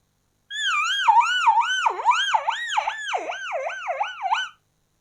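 A voice imitates a wailing ambulance siren, warbling up and down in quick repeated swoops for about four seconds, loud and clear.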